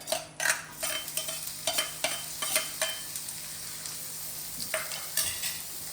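Four chopped small red shallots frying in hot coconut oil for a fish curry, a steady close sizzle with repeated scraping stir strokes from a spoon against the pan.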